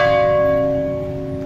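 Noon church bell tolling from the bell tower in Tuburan, Cebu: a steady, sustained metallic ring with lingering overtones, loud and near, slowly fading slightly, with no voices over it.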